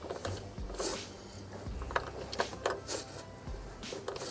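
Ratchet wrench working on engine bolts during a GMC 350 motor swap, with a run of quick close clicking and mechanical rattles in short bursts, no talking.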